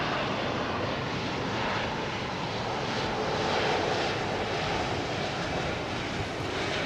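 Loud, continuous engine roar from an airliner arriving on runway 27R at London Heathrow Airport, swelling slightly toward the middle and staying broad and unbroken throughout.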